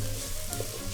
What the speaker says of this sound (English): our onions going in the pan, and we're just going to cook those down a little bit